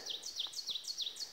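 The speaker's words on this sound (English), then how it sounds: "there's that bird. It's a warning bird." A bird in the woods gives a rapid string of high, sharp chirps in a steady repeating rhythm, thin and fairly distant against a quiet forest background.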